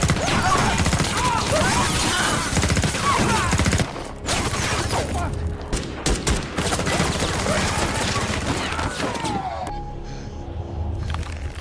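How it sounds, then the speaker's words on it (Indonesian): Dense, chaotic bursts of gunfire and crashing impacts fill most of the stretch, loud and continuous, then thin out toward the end. "tiba-tiba tembakan Ulysses tepat mengenai telinga salah satu anak buahnya."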